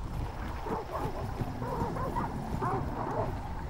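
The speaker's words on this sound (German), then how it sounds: "Die bellen wegen andere Viecher." Dogs barking and yipping in the video game Hunt: Showdown, several short barks over a low background rumble, with faint talk.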